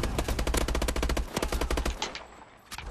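Rapid automatic weapon fire in a Call of Duty Advanced Warfare team deathmatch comes as a fast, continuous stream of loud shots, close and dense, thinning briefly near the end, with no talking.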